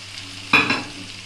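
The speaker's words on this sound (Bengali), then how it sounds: "এবার মশলার সাথে সবজিগুলো খুব ভালোভাবে আমি মিশিয়ে নিচ্ছি।" Fried vegetables tossed into a finished spice paste in a pan for Bengali sukto, giving a short scraping stir with a light sizzle, close and alone.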